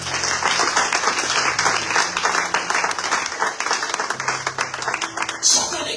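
A church congregation applauds in a sustained wave of clapping throughout, with voices mixed into the crowd noise.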